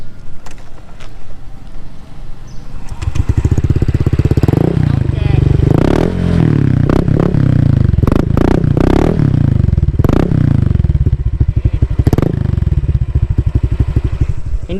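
A Honda Click scooter engine idles and then revs in several rising and falling surges, loud and close, with a rough putter between the revs and brief talk near the start.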